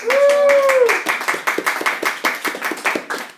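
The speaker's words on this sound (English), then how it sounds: "Can we have a Mr. round of Paper. applause?" A brief stretch of clapping with some cheering, a cluster of hand claps following a voice, fairly close and moderately loud.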